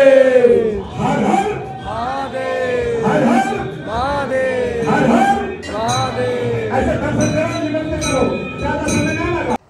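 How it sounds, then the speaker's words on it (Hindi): A dense, loud crowd of devotees packs a Shiva temple on Mahashivratri, with overlapping shouting, chanting and cries filling the space continuously, plus occasional metallic clinks. "शिवलिंग के पास भीड़ इतनी थी"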